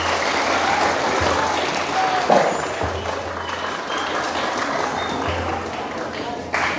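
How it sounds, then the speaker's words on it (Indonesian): Audience applause for Hari Santri at a novel discussion event at an Islamic boarding school, a broad wash of many hands clapping at moderate distance, fairly even throughout, with a low background hum underneath. "Tepuk tangan dulu untuk Hari Santri."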